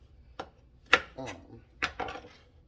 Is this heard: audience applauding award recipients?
no